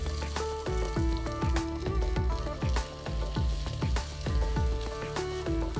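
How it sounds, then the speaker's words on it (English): Half a kilogram of sliced onions fry in hot oil for mutton korma, giving a continuous close sizzle with a regular run of stirring scrapes and clatters throughout. "So now in this oil, we're going to fry half a kg of sliced onions till they are golden"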